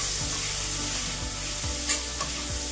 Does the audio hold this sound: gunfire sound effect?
no